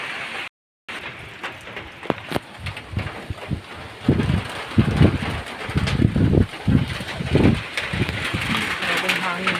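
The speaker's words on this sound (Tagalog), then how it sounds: "Grabing hangin." Strong wind on a farm buffets and roars across the microphone, rising in bursts and gusts, with faint voices mixed in underneath.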